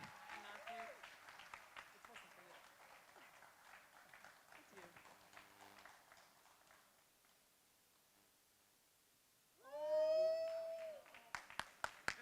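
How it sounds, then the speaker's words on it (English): Conference audience breaks into applause near the end, a short loud burst of clapping, after stretches of quiet talking. "So give a very big round of applause to Sharon."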